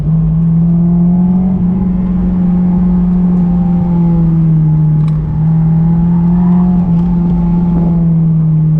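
A Honda S2000 engine drones loud and close while the car drifts, a steady sustained tone that dips and swells slightly in pitch with throttle, with a faint rattle near the middle.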